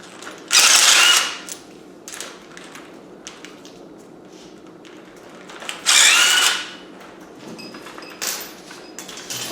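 A ratchet works spark plugs out of an LS engine, with two loud bursts of rapid clicking separated by quieter clinks and handling noises from the tool and engine.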